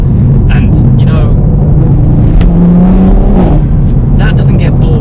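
BMW M140i hot hatch engine revving, a loud continuous drone with rising and falling pitch as the car accelerates, heard up close with wind and road noise.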